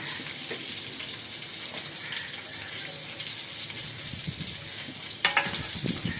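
Fish curry cooking with cauliflower and potato, a steady close sizzle of frying in a pan with occasional clinks and stirring sounds, with no talk.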